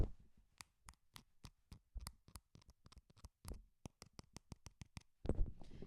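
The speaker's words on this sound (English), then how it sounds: "That is the sound of a cast that has to be on me for an entire" A wrist cast being tapped and moved, giving a rapid series of sharp, close knocks and clicks in an uneven rhythm, ending in a louder rustling scrape.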